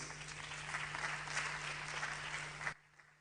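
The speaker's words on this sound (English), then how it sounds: "a resounding round of applause" An audience at a marketing qualifications launch applauds after a Seprewa performance, steady crowd clapping with a low electrical hum beneath, cutting off abruptly near the end.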